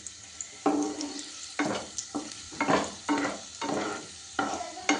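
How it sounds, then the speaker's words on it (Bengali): Food frying in a pan at home, a soft sizzle broken by repeated scraping and stirring strokes in uneven bursts, close and moderately loud, with no voices. "তো দেখো আমি এটা ফ্রাই করছি"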